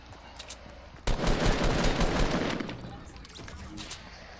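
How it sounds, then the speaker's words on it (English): A sudden burst of gunfire in the Fortnite video game sets in abruptly, loud and dense, keeps up for about two seconds, then fades away. "Of course I get sniped at."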